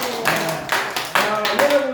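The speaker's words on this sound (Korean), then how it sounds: "여러분 위해서도 생기가 넘치도록 박수." Church congregation clapping during a sermon, the claps loud and close in uneven bursts, with a voice and tonal notes running underneath.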